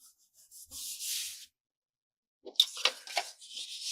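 Paper scraps trimmed for collage cards, with soft scraping and rustling up close, then a pause of silence, then a few crisp cuts and paper handling noises, quiet and intermittent.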